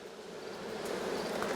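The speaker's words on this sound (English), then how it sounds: "I got a lot of bees" Honeybees buzzing on hive frames during winter hive preparation: a steady, dense, close droning hum that swells slightly, with no voice.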